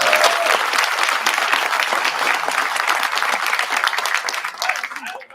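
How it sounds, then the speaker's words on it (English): A school district fine arts festival choir audience bursts into loud, sustained applause, dense crowd clapping that holds steady for several seconds before tapering off at the end. "We'll give a round of applause for that"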